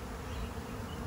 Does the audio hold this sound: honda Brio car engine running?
no